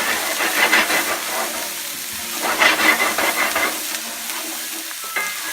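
Minced shallot and garlic sauté briefly in a hot pan with a loud, close sizzle that surges in waves as they are stirred, while utensil scrapes and clinks come and go and no one speaks.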